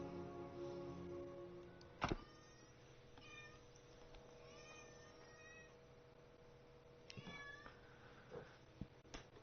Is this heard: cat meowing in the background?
yes